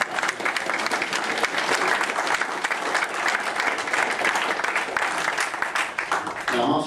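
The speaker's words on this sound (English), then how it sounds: "A round of applause for these 2 friends." Wedding guests break into sustained, lively applause during the groom's speech, dense clapping from a crowd filling the room for several seconds.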